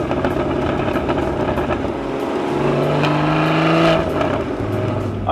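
A Porsche 981 Cayman GT4 engine pulls hard while driving, loud and close, its note rising through the revs and then dropping as it shifts gear before climbing again.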